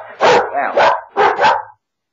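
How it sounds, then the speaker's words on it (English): Dogs bark in a quick run of three or four close, loud yaps packed into under two seconds, followed by sudden silence. "Sit down, dogs."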